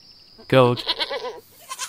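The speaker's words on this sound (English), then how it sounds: "Goat." A goat bleats once, loud and close, a wavering nasal call lasting about a second, followed by quieter rustling and a short fainter sound near the end.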